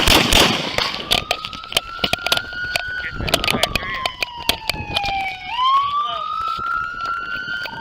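Sharp, loud shotgun-like bangs crack repeatedly in an irregular string while a police siren wails and sweeps in the background during a chase involving Houston police officers, outdoors, close by.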